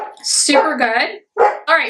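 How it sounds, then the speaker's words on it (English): Pet dogs barking and yipping indoors, loud and close, in quick bursts mixed with someone talking over them. "Hopefully you can hear my dogs, they're barking."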